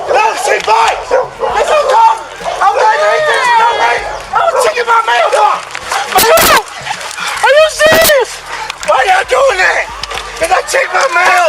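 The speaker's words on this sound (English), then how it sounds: "Get away from the dog. No, she bites." A dog barks and yips repeatedly, loud and close, in sharp bursts over the tense, overlapping shouts of several people talking nearby.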